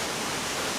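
A powerful waterfall of about 80 metres roars in Costa Rica, a dense, unbroken rush of falling water that fills the whole moment at high level.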